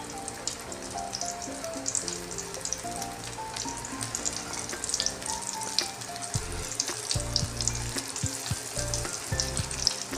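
Small pakoras made with ajwain fry in hot oil, crackling and sizzling loudly and steadily with bursts of bubbling and spattering pops as more batter drops in, close up with no talking.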